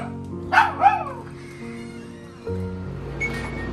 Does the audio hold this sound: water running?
no